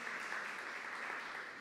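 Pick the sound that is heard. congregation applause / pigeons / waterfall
congregation applause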